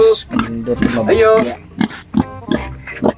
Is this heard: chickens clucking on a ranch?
no